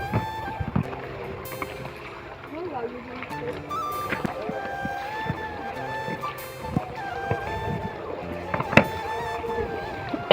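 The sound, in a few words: boat ride on the water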